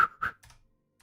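A few quick clicks of typing on a computer keyboard, close and crisp, with two bunched keystrokes followed by a couple of lighter taps and then near silence.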